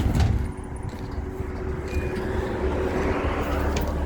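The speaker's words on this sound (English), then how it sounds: "Now, I'm about to hop on the bus" City bus idling and rumbling steadily with low engine drone and a brief door or hiss sound near the start, heard up close as a passenger boards, no talking.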